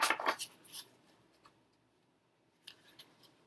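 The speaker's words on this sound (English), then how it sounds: "I am riffle shuffling it because it will riffle shuffle" A tarot card deck riffle-shuffled up close, heard as a quick, crisp fluttering burst of cards at the start, a pause of near silence with a soft tap, then a shorter riffle near the end.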